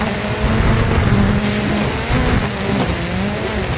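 Dirt 4 rally car drifting sideways, engine droning steadily with tyres scrubbing on loose surface, loud and close throughout with no talk.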